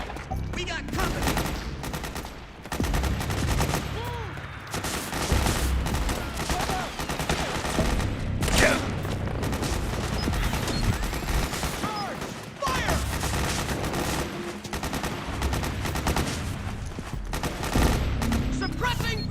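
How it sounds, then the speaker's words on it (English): Video game gunfire in Metal Gear Solid 4: a continuous fusillade of rapid gunshots and machine-gun bursts with sharp cracks, dense and loud throughout, mixed with shouted voices from the game. "Suppressing fire!"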